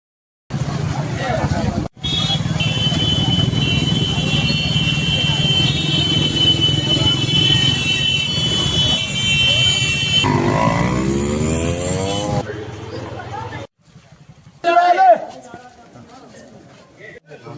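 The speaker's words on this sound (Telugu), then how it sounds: "భారీ సంఖ్యలో బైక్ ర్యాలీ నిర్వహించారు" Motorcycles roar in a large bike rally celebrating a farm loan waiver in Dharmapuri, a dense sustained drone of many engines over a long stretch, with revving passing bikes, breaks in sound and some voices near the end.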